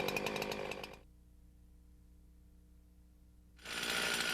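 A chainsaw used in manual tree felling runs loud and close in two bursts of high revving, separated by a few seconds of quiet with only a low residual hum.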